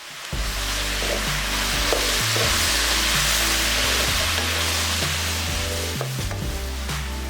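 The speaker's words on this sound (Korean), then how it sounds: "물엿 3스푼 고춧가루 반 스푼 넣고 중약불에서 양념이 잘 배이도록 볶아준다" Fish cake stir-fried in a pan with soy sauce, syrup and chili powder over medium-low heat, a steady close sizzle with a low rumble and occasional utensil scrapes and knocks running throughout.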